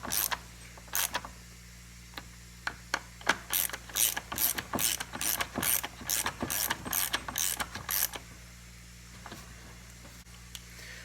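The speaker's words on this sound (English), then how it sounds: "And then finally tighten up everything." A ratchet tightening bolts on a Stihl MS 260 chainsaw, a quick run of close, crisp clicking strokes in an even rhythm, starting and ending with a few scattered clicks.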